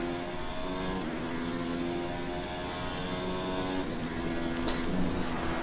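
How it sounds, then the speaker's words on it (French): Steady, loud whine of a Formula 1 car engine at full power in the F1 2019 video game, sustained for several seconds with slight pitch shifts as gears change. "J'ai la pleine puissance du moteur."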